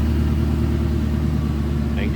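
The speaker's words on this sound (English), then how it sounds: "Good, healthy sounding engine." A 1999 Ford Mustang GT coupe, 30th anniversary edition, idles its V8 with a steady, deep, low rumble close by and loud, holding an even tone with no revving throughout.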